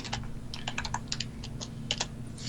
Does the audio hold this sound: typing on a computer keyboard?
yes